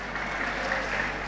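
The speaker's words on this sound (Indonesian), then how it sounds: "Kenapa tepuk tangan?" Steady applause from an audience at an Islamic religious lecture, a dense even patter of many hands at moderate level throughout the short stretch, with no voices standing out.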